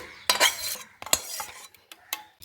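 Frozen milk pieces drop into a mixer jar in a few sharp clattering knocks and scrapes, close and separated by short pauses, then lighter taps toward the end.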